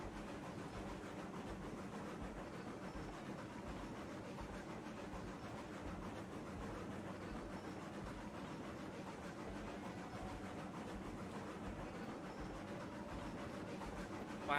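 A Class 70 locomotive hauling a string of cars uphill in the train game Railroads Online: a steady, low mechanical rumble and rolling rail noise that continues evenly and faintly throughout.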